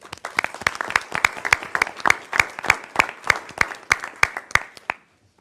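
A small audience at a school board of education meeting applauds an honor, a sparse group of distinct, rhythmic hand claps, moderately loud in a room, that stops abruptly after about five seconds.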